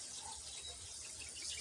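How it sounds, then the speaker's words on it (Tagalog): Water runs steadily into a goats' drinking trough in a steady, continuous hiss, faint and unbroken, with no talk. "Talaga pupunan na lang natin ang tubig."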